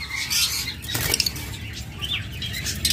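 Yellow Fischer's lovebirds in cages chirp in quick high bursts while wings flutter and patter against the cage, close and lively with no voices.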